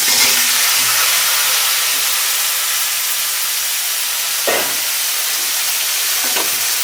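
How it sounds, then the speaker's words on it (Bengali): Brinjals and green chillies sauté in a hot pan with a continuous close hiss and sizzle, broken by a couple of brief stirring scrapes. "দেখুন এখন আমি বেগুনগুলো একটু সাতুলে নেব"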